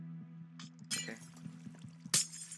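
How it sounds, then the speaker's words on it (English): Water poured from a bucket in the block-building game Minecraft, a couple of short splashy bursts over a steady low musical hum, quiet overall. "start placing the water, just drenching it"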